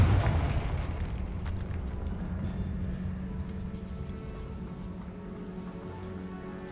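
Confringo fire spell explodes in the video game Hogwarts Legacy, inside a decayed catacomb. A loud, deep boom opens the sound, then a rumbling, crackling roar fades slowly over several seconds.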